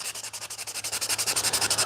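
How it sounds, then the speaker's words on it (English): Steady hand sanding of an Avro part, rapid back-and-forth rubbing strokes in an even rhythm, close and moderately loud with no talk. "the sanding's starting to get to the end"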